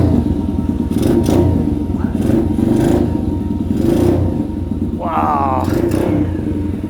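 A Hawk 125 pit bike engine idles with a loud, continuous rattling putter up close, its pitch rising briefly near the end, while a voice exclaims over it.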